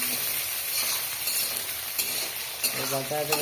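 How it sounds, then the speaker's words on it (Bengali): Fish frying in a pan in a Bangladeshi village kitchen. It gives a constant close sizzle and hiss, with a few clinks and stirring scrapes toward the end. "আর এই যে মাছটা ভাজিছি।"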